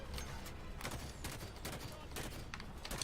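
Gunfire rattles through combat in Halo 5: Guardians while enemies are killed, dense overlapping shots and bursts in a faint, busy mix with no clear pauses.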